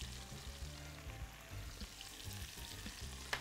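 Pasta being tossed with olive oil, freshly ground black pepper and salt, giving soft, steady stirring and scraping noises with faint sizzle-like texture and a few light knocks, close and fairly quiet, with no talking.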